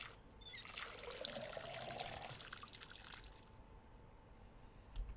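Water pours in a steady splashing trickle for several seconds inside the video game Schedule 1, faint and alone, then tapers off with a small clink at the end.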